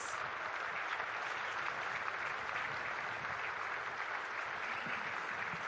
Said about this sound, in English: Big healthy applause here at the MCG